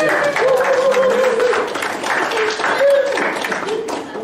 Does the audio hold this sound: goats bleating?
no